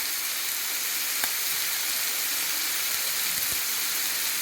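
Cajun chicken and kimchi noodles frying in a pan, a steady loud sizzle and hiss that runs throughout with a couple of faint taps of a utensil, no talk.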